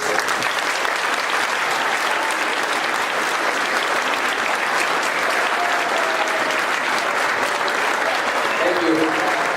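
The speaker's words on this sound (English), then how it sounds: "Please join me in a final round of applause for this evening's award recipients and stakeholders." A school awards-ceremony audience gives a final round of applause for the award recipients and stakeholders, a dense, sustained wash of clapping that stays loud and even from start to finish.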